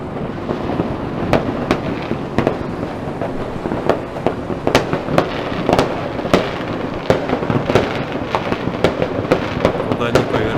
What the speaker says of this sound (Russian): Куда ни повернись, везде салют.